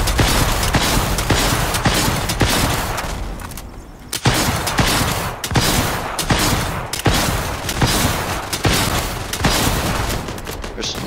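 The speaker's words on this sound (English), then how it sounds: "Just launch salvo after salvo after salvo." Rocket launcher salvos fire repeatedly during a world boss fight in a video game, loud rapid volleys of blasts and booms in a steady rhythm with a brief lull midway, mixed with game noise.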